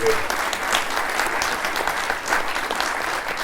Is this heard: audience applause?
yes